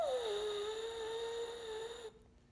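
A French horn mouthpiece buzzed on its own, with no horn attached, giving one sustained nasal buzz that dips in pitch at the start, then holds steady and close for about two seconds before cutting off.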